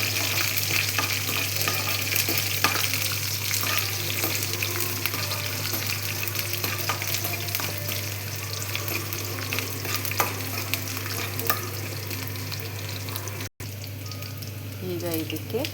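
Garlic frying and being stirred in a pan, a steady close sizzle with scraping strokes throughout, over a constant low electrical hum and a brief dropout near the end.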